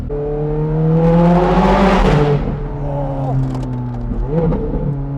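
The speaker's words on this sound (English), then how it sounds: "This is my first time driving a Scuderia. I really want to hear it beneath the underpass." Ferrari 430 Scuderia V8 engine driving beneath an underpass, loud and close, its harmonic note rising and then easing, with a second brief throttle blip near the end.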